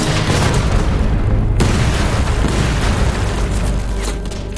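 A Panzerfaust rocket blasts open a castle gate in wartime combat: a loud, dense explosive boom with a sharp renewed burst about a third of the way in, followed by a sustained low rumble that slowly fades.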